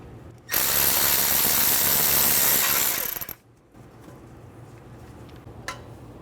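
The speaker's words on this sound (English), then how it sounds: "Using a 10mm socket, remove the bolt for the ABS sensor." Power tool spinning a 10mm socket to remove the ABS sensor bolt on a 2011-2014 Hyundai Sonata during a front wheel bearing job, a loud continuous whirring burst of about three seconds that cuts off abruptly, followed by quiet shop ambience and a faint click.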